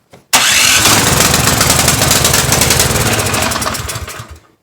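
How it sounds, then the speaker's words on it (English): A small snowblower engine, a Husqvarna ST 151, cranks and catches, then runs with a loud, rough rattling roar for several seconds before cutting off. "I'm going to see if I can get the engine to turn over though."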